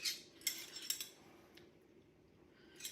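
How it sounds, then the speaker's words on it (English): Metal utensil tapping against a metal mixing bowl while cooking, a few faint sharp clinks spaced apart over quiet kitchen background. "I keep hitting that metal bowl. Sounds awful."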